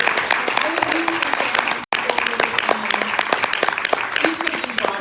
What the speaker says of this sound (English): can I just get a huge round of applause for